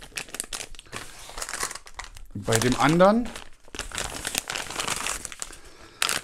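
A plastic bag from a PlayStation 5 RGB stand kit is crinkled and rustled close up in a loud burst, with a person speaking before and after the handling.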